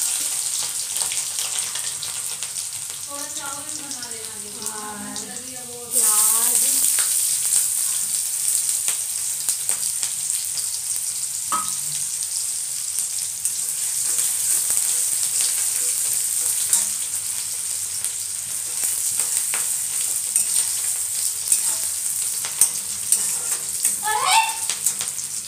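Cumin, ginger and garlic sizzling in hot oil, a steady hiss that jumps louder as ingredients hit the pan, with a voice speaking briefly early on.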